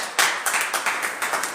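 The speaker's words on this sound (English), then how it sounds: "Go, clap for her, please." A small group claps for a student during a live pharmacy dispensing class, a short run of distinct, fairly close hand claps in an uneven rhythm.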